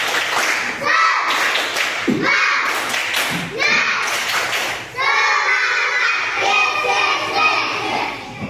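A class of children claps in a quick patterned rhythm, with bursts of shouted chanting between and over the claps, close and lively.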